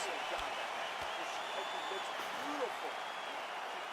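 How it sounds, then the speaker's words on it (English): Steady crowd roar and applause filling the arena between rounds of a UFC video game bout, a broad continuous wash of noise at even loudness with a few faint thuds and no clear speech. "So the crowd voicing its appreciation after that round."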